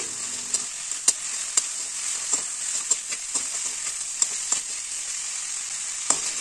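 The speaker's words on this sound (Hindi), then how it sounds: "टमाटर ऐड करेंगे इन टमाटरों को अच्छे से मिक्स कर देंगे मसाले में" Tomatoes being stirred into a spiced masala frying in a pan for a badhar (monkey jack) flower curry, with a steady hiss of sizzling and irregular clinks and scrapes of a spoon against the vessel.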